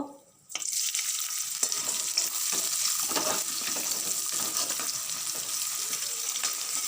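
Fried vegetables, cashews and raisins tipped into a hot pan for a rice dish, a sudden burst of steady sizzling followed by scraping stirs, continuous and close.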